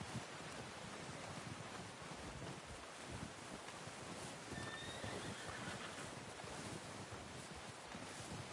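A horse in Red Dead Redemption 2 lets out a single brief whinny midway, heard over a constant roar of wind and surf-like outdoor ambience.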